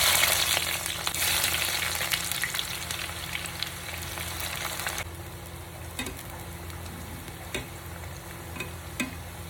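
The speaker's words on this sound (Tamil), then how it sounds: "இப்போ கத்திரிக்காய் முதல்ல பொரிச்சு எடுக்கலாம்." Brinjal (eggplant) pieces fry in hot oil for biryani, giving a loud, dense sizzle up close that eases slightly midway, with a few soft clinks of stirring toward the end.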